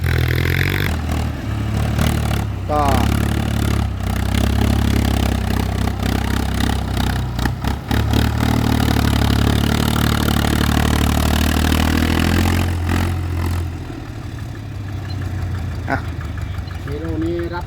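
A walking tractor engine runs loud and close with a steady low chugging drone and metallic clatter, easing slightly toward the end.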